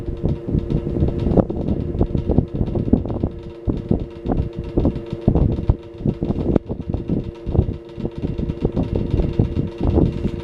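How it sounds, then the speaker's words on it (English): A vintage General Electric 8-inch table fan, model FM8S11 with Bakelite base, runs with a steady motor hum and a slight rattle, irregular clicks and thumps over the drone, close up and alone. "The motor has a little bit of a rattle, but for its age, I think it's doing really well."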